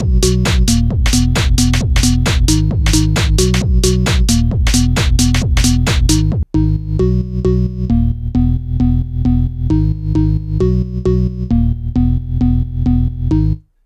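A Korg M1 Organ 2 preset plays rhythmic stabbing chords over a sustained low bass, loud and steady, changing to a softer, held chord pattern halfway through.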